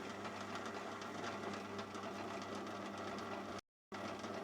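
Metal lathe turning a short taper with the compound rest set, a steady humming drone with faint cutting chatter, continuous and even before a brief gap, no talking.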